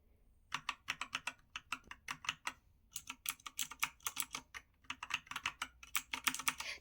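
Typing on a computer keyboard with new keycaps on the main letters, backspace and space bar: close, crisp bursts of rapid clicky and thumpy keystrokes in uneven runs, separated by short pauses.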